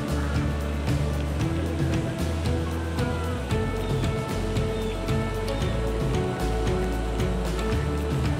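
Steady rain falls on sailboats racing on open water, a continuous hiss of drops mixed with water and engine-like rumble, moderately loud and unbroken throughout.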